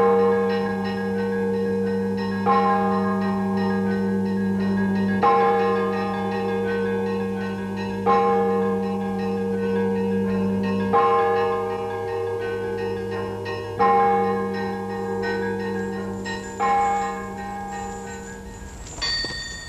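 Church bells ring steadily, with a fresh strike about every three seconds over a sustained, resonant hum of overlapping tones.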